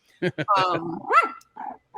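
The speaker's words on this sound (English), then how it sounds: "my dog is losing her crap right now" A female dog barks sharply twice, then breaks into a rising growling, yowling vocalization, followed by two more short barks, loud and close with no talk over it.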